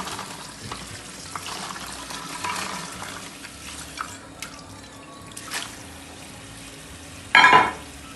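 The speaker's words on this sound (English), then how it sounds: "Now we have to rinse the beans with the cold water" Fava beans are rinsed with cold tap water, giving soft splashing and dripping close by, with a louder gush of running water near the end.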